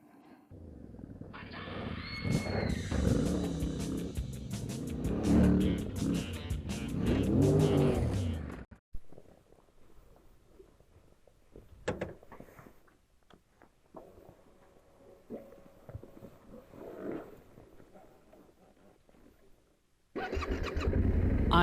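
A Yamaha Tenere 700 motorcycle engine starting and revving loudly up close, settling into rough idle and revs for several seconds, then quieter stretches with faint rumbling before it picks up again at the end.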